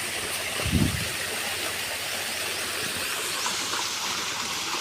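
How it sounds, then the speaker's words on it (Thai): Steady broadband rush of a waterfall at a garden of ornamental plants, constant and fairly close, with a brief low thump early on. "พามาชมน้ำตก"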